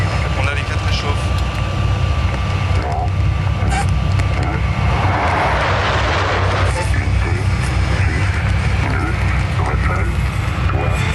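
Concorde at takeoff with all four engines on afterburner, a dense continuous roar that swells midway, with a voice speaking over it.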